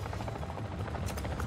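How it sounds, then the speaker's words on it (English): A helicopter in the Modern Warfare 3 Zombies video game thrums with a steady, rapid rotor chop and engine buzz, loud and continuous throughout with no speech over it. "I think I literally just hit the helicopter."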